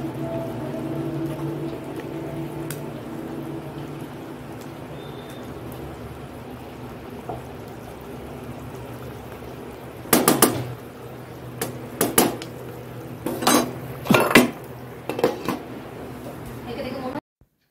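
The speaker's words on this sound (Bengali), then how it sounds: "এবার দিয়ে দিলাম মাছগুলো।" Fish frying in a pan for potato and long bean curry, a faint steady sizzle with sharp clattering clanks of utensils against the pan in the second half.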